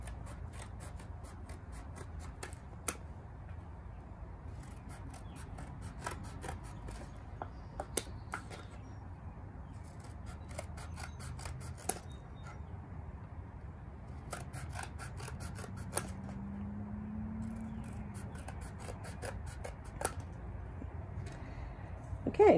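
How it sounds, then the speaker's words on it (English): Scissors cut straight across a cardboard paper towel roll, giving sharp, crisp snips at irregular intervals, some in quick clusters, close by over a quiet, low background hum. "I'm just going to cut these straight across"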